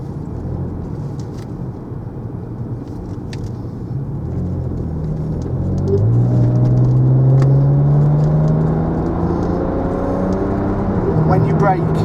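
A 2007 BMW E91 335i drives along, its engine note rising steadily as the car picks up speed, with a steady road rumble beneath a continuous, fairly close drone.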